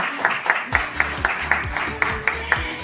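A small audience applauds for a singer, a sparse patter of clapping with a few sharper individual claps standing out at regular intervals, fairly close and without voices over it.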